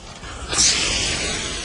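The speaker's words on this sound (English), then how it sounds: "Now just start spraying the sand." A steady broadband hiss of water spraying out sand rises and then holds at a constant level, loud and close, with no voices.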